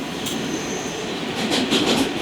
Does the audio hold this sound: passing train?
yes